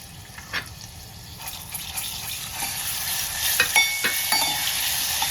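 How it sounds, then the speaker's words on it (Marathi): Garlic sizzles in a hot oil tempering for a Marathi village-style vegetable dish, a steady close frying hiss with occasional stirring clinks. "थोडासा लसूण घालायचा आणखीन फोडणीत."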